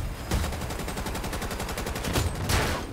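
Sustained rapid automatic gunfire in Battlefield 2042, a dense unbroken stream of close, loud shots with a few heavier bursts toward the end.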